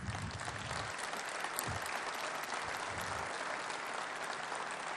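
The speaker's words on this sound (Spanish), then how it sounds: "Obviamente que los medios van a editar este aplauso" Loud, sustained audience applause during a presidential speech by Javier Milei at the ExpoEFI 2024 event, a continuous wash of clapping from a large crowd that runs the whole stretch with no talk over it.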